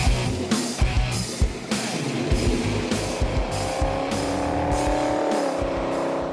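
A Ford 302 5.0 V8 in a '33 Ford hot rod kit car idles loud and close, its lumpy exhaust burbling in rapid pulses before settling into a steady, rising drone.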